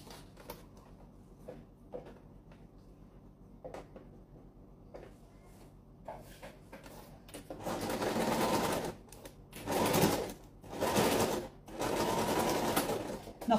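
A sewing machine stitches a foldable fabric pouch: soft handling clicks and taps at first, then several loud, steady whirring runs of stitching separated by short pauses, close by.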